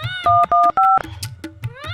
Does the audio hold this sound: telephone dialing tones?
yes